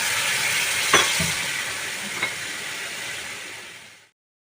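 Sugar and water heat in a pan over a gas flame, giving a close, even hiss with a couple of faint clicks before it cuts off abruptly.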